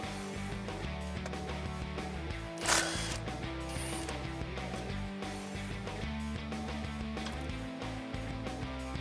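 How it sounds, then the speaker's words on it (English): Ratchet turning a 12mm socket to remove a brake line bracket bolt on a Toyota Tacoma, giving steady mechanical clicking and whirring throughout, with one brief louder hiss partway through. "12mm socket, let's remove this bolt."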